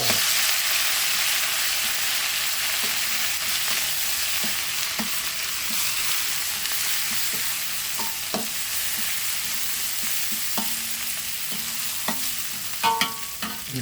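Garlic and ground pork stir-frying in a pan for a Thai pork and winged bean salad, with a steady close sizzle and repeated clicks and scrapes of a spatula stirring through it, no voices.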